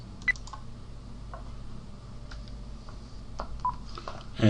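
Keypad tones sound as a PIN is entered on a phone, a few short, sparse electronic blips over a quiet background with no talking.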